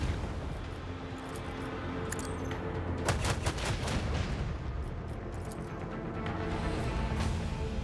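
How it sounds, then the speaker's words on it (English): Spaceship macro cannons in the Warhammer Rogue Trader video game fire continuously in a dense, booming barrage. Several sharper blasts stand out around the middle, and no talk is heard over the loud, steady roar. "Lay in the course. And then we'll just, you know, kite. Macro cannons fully."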